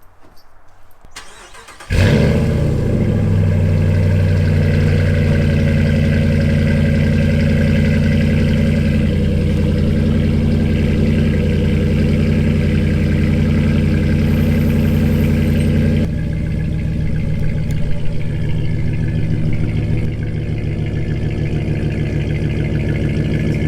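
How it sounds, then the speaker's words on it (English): A Dodge Ram 1500 with an MBRP catback exhaust starts up and settles into a loud, deep, steady idle that rumbles on without a break, heard close with no one talking. "So this is the MBRP exhaust catback on a Dodge Ram"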